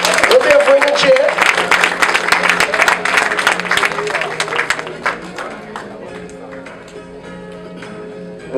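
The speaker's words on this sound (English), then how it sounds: "Big round of applause" Audience at an award ceremony and dinner breaks into loud, dense applause that peaks early and then thins and fades, with a voice speaking over the clapping.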